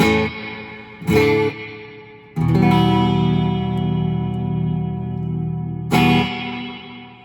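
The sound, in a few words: guitar pedal reverb effect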